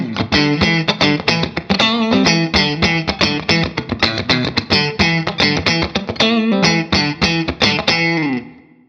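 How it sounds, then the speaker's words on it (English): Electric guitar played through a Fractal amp with a dynamic compressor, loud and close, with tight, percussive, rhythmic strums and funky staccato chords that ring out briefly at the end. "if we put a compressor in front of it, it's just going to get ridiculously spanky"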